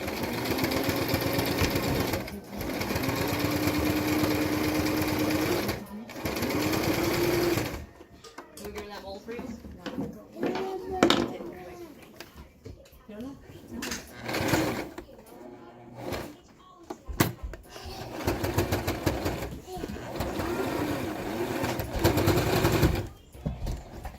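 A sewing machine stitches a medical face mask in long steady runs of rapid, close mechanical chatter, broken by pauses where fabric is turned and handled, with a person talking in between.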